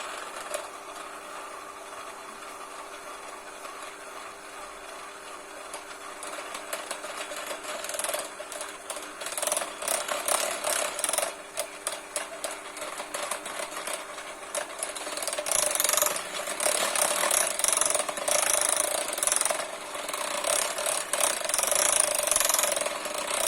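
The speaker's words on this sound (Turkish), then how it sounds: "şimdi kakaomu ekleyeceğim içine. Yavaşça böyle de çırpacağım." An electric mixer whirs steadily as it whisks cocoa into cake batter, quieter at first and then growing louder and busier toward the end, with no talking.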